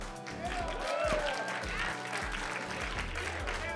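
Audience applause at a Classic Tetris World Championship event, a broad crowd wash with music and a low rhythmic beat playing underneath throughout.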